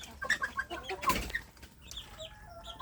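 Young free-range village chicks cluck and cheep in a cluster of quick calls, with a brief louder flurry in the middle and faint chirps trailing off afterwards.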